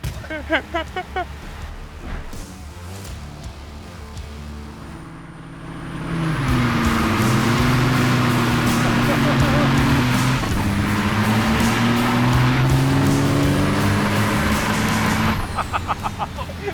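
A heavy 20,000-pound semi truck engine roars up to full power at a drag race, holding a loud, rising drone for several seconds, with an air brake hiss near the end.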